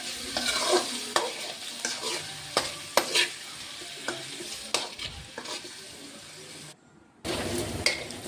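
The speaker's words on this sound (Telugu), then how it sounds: "ఇక్కడ నేను డీప్ ఫ్రై చేస్తున్నానండి, అంటే చాలా క్రిస్పీగా ఉంటాయి. ఇలా మధ్యలో మీరు కలుపుతూ ఫ్రై చేయాలి." Paneer cubes deep-fry in a pan of oil with a continuous bubbling sizzle, punctuated by repeated scraping knocks from a stirring spoon. The sound drops out briefly for one short silent gap before the frying resumes.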